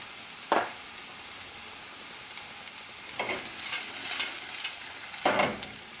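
Sliced leeks fry with Brussels sprouts in a pan, a soft steady sizzle broken by three brief scraping stirs.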